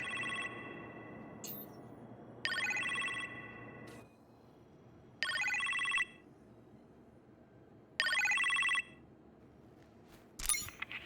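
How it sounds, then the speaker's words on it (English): In the Iron Man VR video game, a kitchen telephone rings in four evenly spaced bright electronic bursts, each about a second long, separated by quiet pauses over a faint room hum. "You appear to have a phone call in the kitchen, sir."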